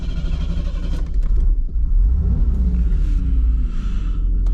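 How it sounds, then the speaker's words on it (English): Knight Rider KITT car engine, a Black Beauty replica, starting up into a loud low rumble that swells and revs, deep and close with rising engine tones, no talk. "Start the car."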